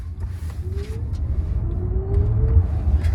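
An electric Mercedes-Benz EQC 400 accelerates hard, its faint rising motor whine climbing in pitch over a low road rumble inside the cabin.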